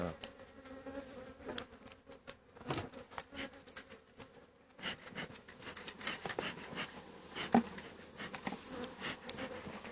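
Honeybees buzz steadily around an open hive during April hive care, a dense close-up drone with occasional sharper taps and knocks.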